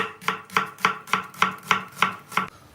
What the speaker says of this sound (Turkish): Aynı robottan çeker gibi hep aynı yere vuracağız bıçağı